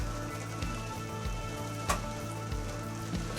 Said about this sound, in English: It's been raining for 2 days.